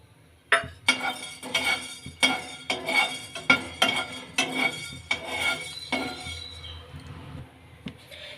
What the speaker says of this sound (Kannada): ಮೊದಲಿಗೆ ಮೆಣಸನ್ನ ಹುರ್ಕೊಳ್ಳೋಣ